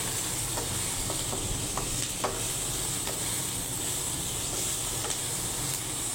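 Eggplant sisig with tofu fries in a pan with a steady, dense sizzle and hiss. Occasional faint scrapes from stirring can be heard close by, and no one speaks.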